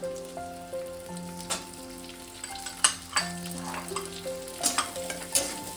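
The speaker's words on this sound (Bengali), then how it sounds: "এবার পেঁয়াজটা দিয়ে দেবো" Diced onion goes into a hot pan for paneer Manchurian, with capsicum already in: crackling frying and repeated spatula scrapes and knocks, close and busy, with faint background tones and no talking.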